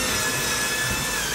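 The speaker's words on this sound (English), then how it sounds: "As you keep drilling the same holes over and over" A power drill bores holes to mount a shelf, producing a loud, steady whirring grind with a rising tone, heard close up and alone.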